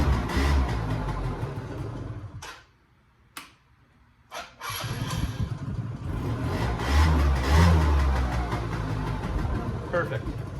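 A Yamaha Vino 50cc scooter's small engine turns over, drops briefly quiet, then catches and runs with a steady buzzing idle close by, with a voice talking over it.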